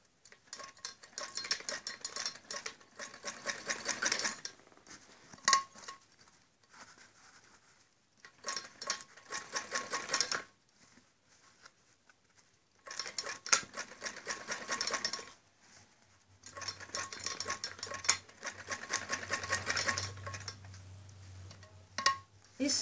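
A sewing machine stitching a padded blouse, running in several whirring bursts of a few seconds each, separated by quiet pauses, close and fairly loud, with a faint low hum late on.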